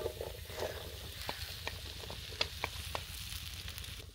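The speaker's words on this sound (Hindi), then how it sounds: "भिंडी को हम हल्की सी आंच पे लहसुन के साथ फ्राई कर लेंगे।" Okra frying with garlic in a pan over low heat, a steady close sizzle with a few soft clicks and stirring taps, no voices.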